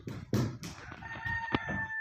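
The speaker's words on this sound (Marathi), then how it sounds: "खिडकीतनं कोंबड्या बघू शकता तुम्ही." A rooster crows outside a window, with a short crowing call and a few clucks nearby, fairly faint against quiet surroundings.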